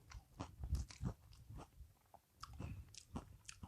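Someone bites into a sturdy corn tortilla chip loaded with chunky guacamole, a few close crunchy bites followed by chewing, quiet overall and with no talking.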